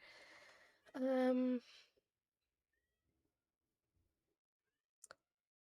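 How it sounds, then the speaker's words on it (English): A cat yells with one loud, drawn-out meow close to the microphone, following brief talk. Then comes a long near-silence with a couple of faint clicks. "My cat is yelling."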